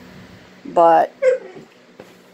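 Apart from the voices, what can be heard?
dog whimpering and rumbling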